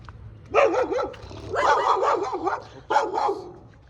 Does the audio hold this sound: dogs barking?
yes